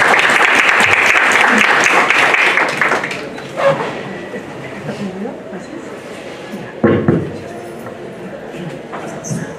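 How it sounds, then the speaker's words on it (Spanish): An audience in an auditorium at a law session claps in a strong burst that fades after a few seconds, followed by quieter room noise, scattered movement and a brief knock or thump. "Le brindamos un fuerte aplauso."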